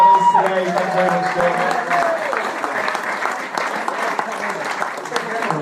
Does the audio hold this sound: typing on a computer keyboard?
no